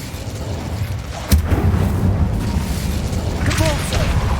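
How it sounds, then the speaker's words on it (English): An Incendio fire spell in a wizard video game bursts with a sharp, heavy boom, then a sustained low roaring rumble, with a second flare of crackle near the end. "Incendio."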